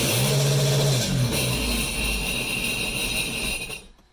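A Sea-Doo Spark jet ski engine running close by, a loud sustained mechanical drone with a rising rev near the start, then fading away toward the end.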